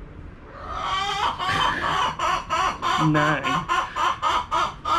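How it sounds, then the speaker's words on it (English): Chickens cluck and squawk close by in a rapid, repeating burst of calls, with someone speaking briefly over them. "some of you guys been asking about the chickens, so here they are."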